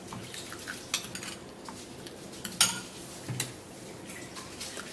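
Baking soda is stirred into a mixture in a bowl, giving faint scattered clinks and scrapes of a spoon against the dish with a sharper tap or two, quiet and close, with no talking.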